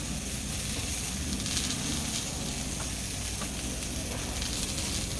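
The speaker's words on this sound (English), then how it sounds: "My sausages are cooking." Italian sausages cook in a pan with a continuous, even sizzle and hiss, steady and fairly loud throughout, with no talking.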